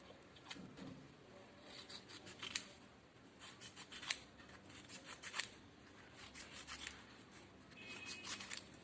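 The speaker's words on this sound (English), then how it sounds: "Then cut the strips." Scissors snip through strips of paper for a cat craft, a series of quiet, irregular crisp cuts close by, with no talking.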